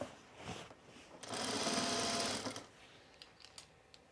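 Sewing machine understitching binding on a canvas apron, a short burst of fast rhythmic stitching lasting about a second, preceded and followed by light handling clicks, close and quiet.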